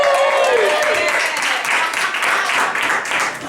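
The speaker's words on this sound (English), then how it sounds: "Get up and grab a applause for Eric." Cabaret audience applauding steadily for the whole stretch, dense clapping close and full, with cheers and voices mixed in.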